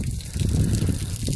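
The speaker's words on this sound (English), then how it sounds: "Here's my old rain cat pivot. She's got leaks, lots of leaks." Water gushes and splashes steadily from leaks in an old Raincat center pivot irrigation system over an alfalfa field, a close, continuous rushing pour with no voices.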